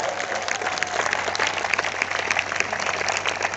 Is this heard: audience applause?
yes